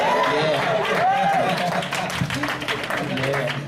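Church congregation clapping along, a steady crowd of hands mixed with music and voices, the clapping continuing under a speaker's talk.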